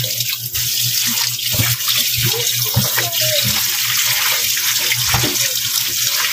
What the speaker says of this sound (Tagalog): Ayan, tapos hugasan na natin.